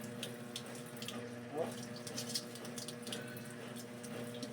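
Strong, steady rush of water from a tap after the drain was unclogged, running continuously at close range, with a brief voice heard once.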